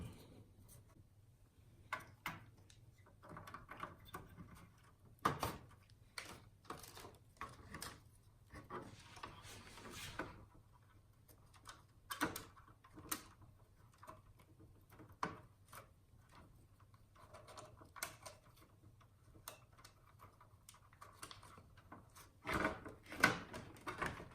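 Parts of an Amstrad CPC464 home computer being handled during assembly: scattered light clicks, taps and plastic knocks at an irregular pace, close and fairly quiet, with a steady low hum underneath and no talking.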